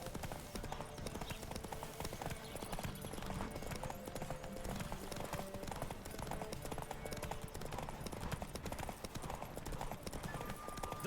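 Galloping horse hooves in The Witcher 3: The Wild Hunt drum in a fast, steady clip-clop throughout, carrying under other game sound with no one talking.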